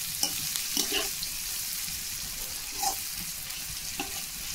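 Figs and vegetables stirred and fried in a pan for a traditional Bengali village curry, with a low steady sizzle and a few scattered scrapes and knocks of the stirring spoon, no talking.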